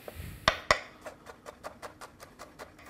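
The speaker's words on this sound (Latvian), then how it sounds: "Sakapājam ķiploku." A knife chops garlic cloves on a board with a steady run of about a dozen crisp, close taps, two sharper knocks standing out near the start.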